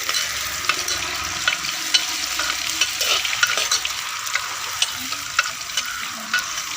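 Curry leaves and cumin sizzle and crackle in hot oil in a pan while being stirred, a steady bright frying hiss with small pops and occasional scraping, close and without talk.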